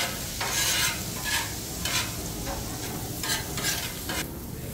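Chopped onion frying gently over slow, low heat in a pan for Guyanese-style egg fried rice, giving a steady close sizzle broken by about half a dozen scraping stirs, with no talking.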